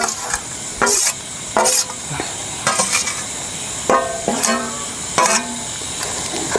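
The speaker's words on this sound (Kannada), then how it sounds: "ಸೊ ಇದನ್ನೀಗ ಒಳ್ಳೆ ಮಾಡಿ ಈಗ ಮಿಕ್ಸ್ ಮಾಡ್ತಿದ್ದೇವೆ ನಾವು" Crab sukka with roasted masala and turmeric is stirred and fried in a pan in a village kitchen, the spoon scraping in quick, regular strokes over a continuous sizzle, close up and with no talking.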